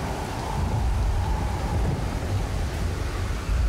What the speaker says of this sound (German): Aber die Wellen, die gehen ja richtig ab gerade.